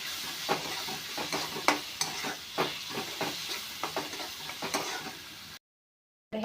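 A spoon stirs a soybean and tomato curry in a hot pan, with regular scraping strokes about twice a second over a soft, constant sizzle, close and clear, before the sound cuts out near the end.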